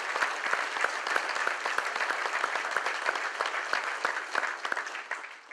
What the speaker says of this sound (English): Let's give them a big round of applause for all the work you do.